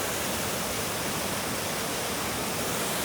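A waterfall on the Thakhek motorcycle loop in Laos gives a steady, broadband rushing roar that holds evenly throughout, with no voices over it.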